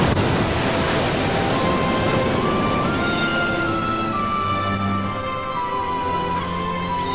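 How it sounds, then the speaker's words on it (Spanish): Loud, continuous roar of Atlantic Ocean surf breaking on the Galician shore, a dense wash of water noise with no pauses. "Las aguas rugientes, el viento salado"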